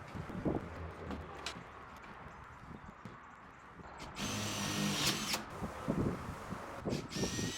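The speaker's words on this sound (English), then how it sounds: "I got the drill. I got a screw in the right hole." A power drill whirs in short bursts as it drives a screw while building a shipping container cabin, the bursts close and loud against a quiet, muffled background.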